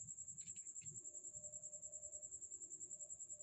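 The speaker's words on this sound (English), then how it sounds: "Can you hear the crickets?" A steady, high-pitched pulsing chirp of crickets in Arizona fills the background continuously, with faint low rumbling beneath it.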